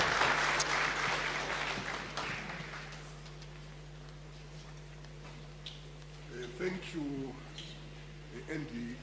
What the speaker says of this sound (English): No, come on guys, big clap, big clap,